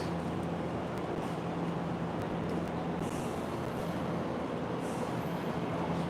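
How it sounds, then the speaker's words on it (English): Passenger train rumbling steadily through Tokyo with riders aboard, a continuous low interior drone with faint clatter and no talk. "this train about to get more and more packed"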